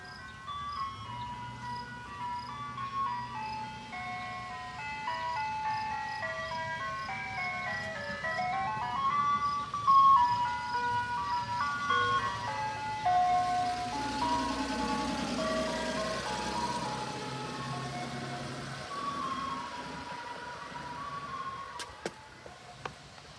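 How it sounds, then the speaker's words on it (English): An ice cream truck plays its looping chime melody as it rolls past on a street, the tune and engine rumble growing louder, peaking, then fading as it drives away. "This is my ice cream truck"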